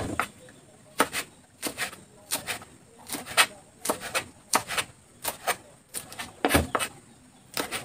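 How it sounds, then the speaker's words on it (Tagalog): Crisp knife chops through green beans hit a cutting board in an uneven, fairly quick rhythm, about twenty sharp cuts close up with short pauses between them. "Naghihiwa na tayo ng beans."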